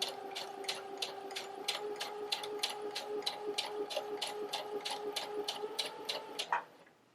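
Sewing machine running steadily while taking a few back stitches on a gathered seam, its needle clattering in a fast, even rhythm of repeated ticks over a constant motor hum, close and clear, stopping abruptly near the end.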